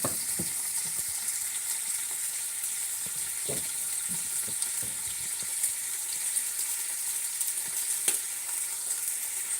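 Fish for fish sarciado fries in a pan with a steady loud sizzle, and scattered pops and crackles come through the hiss.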